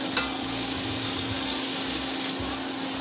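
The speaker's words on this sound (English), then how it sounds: "the butter bubbles like that, it's ready for the meat to go in" Butter melting in heated olive oil in a pan gives a steady, close sizzle and fine bubbling with a faint hum underneath. It runs continuously with no talk.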